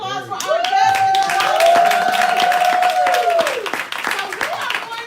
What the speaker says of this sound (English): Y'all give it a round of applause for our guests.